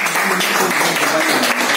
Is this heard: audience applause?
yes